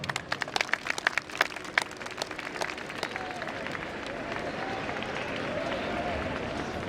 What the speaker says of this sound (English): May I request the audience present over here to give them a huge round of applause.